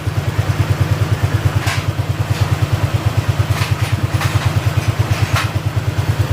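A motorcycle with a hard-starting fault runs at a low idle, its engine throbbing in a steady, even pulse close by with faint clatter above it.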